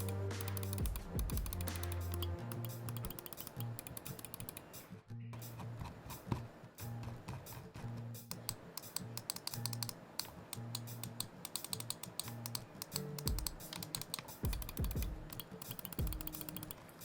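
Clicks and scroll-wheel ticks from a Lamzu Paro Aurora gaming mouse, a steady run of sharp close-up taps and ratcheting notches that keeps going for about seventeen seconds with no talk.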